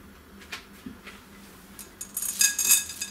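A spoon stirring dark chocolate chips through coconut flour muffin batter in a bowl, with soft intermittent clinks and scrapes that grow busier and brighter toward the end.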